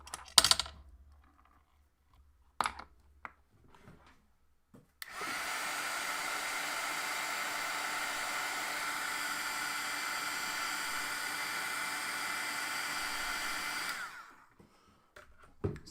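A heat tool heat-sets Distress Foundry Wax, blowing a steady, moderately loud airy whoosh for about nine seconds between a few small taps and clicks, with no talking.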